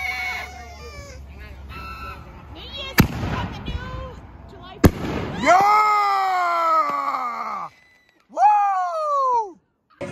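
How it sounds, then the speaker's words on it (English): New Year's Eve fireworks burst at midnight in two sharp, loud bangs, followed by rising whistling screeches and squealing tones that sweep up and fade. There is no speech. "And you saw the fireworks."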